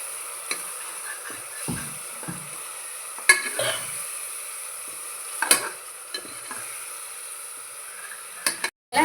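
A spoon scrapes and turns a vegetable biryani mixture in a pan, giving quiet, sporadic stirring strokes with soft clinks against a faint low background.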